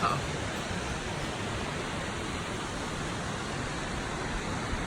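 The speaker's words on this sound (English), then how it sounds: "We made it to the waterfall." A Himalayan waterfall rushes as a loud, constant broadband roar that stays steady and unbroken throughout, with no voices rising above it.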